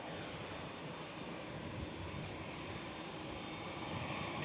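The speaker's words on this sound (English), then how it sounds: "Just going to let this Etihad roll past." Etihad airliner taxiing past at Manchester Airport, a steady broad engine roar that holds and swells slightly, moderately close and without talk.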